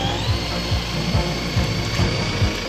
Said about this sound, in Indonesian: Dengan suara bor spiral yang menderu, seorang pemantau mengebor lubang di gletser